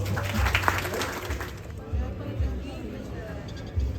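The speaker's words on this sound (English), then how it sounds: "Give her a round of applause." Audience applause at an outdoor Ramayan in the Park event, a broad wash of clapping with a few louder bursts over low crowd murmur, moderately close and steady throughout.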